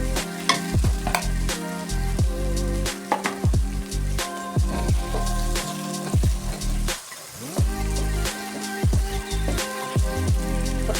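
Garlic paste sautés in a pan with steady sizzling and repeated stirring scrapes, loud and close, the clatter of the spoon coming in uneven bursts throughout.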